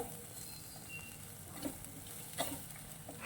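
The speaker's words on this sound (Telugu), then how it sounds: "ఇది స్వీట్ కార్న్ వేసిన తర్వాత కొంచెం ఫ్రై అయిన తర్వాత, ఎక్కువసేపు ఫ్రై చేయాల్సిన అవసరం లేదండి." Sweet corn frying in a pan for poha upma, a quiet low sizzle with a couple of soft stirring scrapes, no voices.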